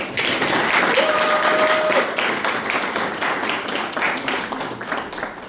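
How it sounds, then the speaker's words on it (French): An audience claps steadily at a French foundation's key-handover ceremony honoring Sobibor survivors. The dense applause fills the whole stretch, with a faint thin tone sounding briefly near the start. "Applaudissez pour eux, s'il vous plaît."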